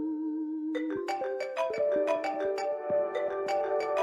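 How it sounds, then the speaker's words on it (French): A telephone rings with a melodic electronic ringtone, a bright sequence of chiming tones stepping up and down in a steady pattern, fairly loud and alone with no talk. "Le téléphone sonne."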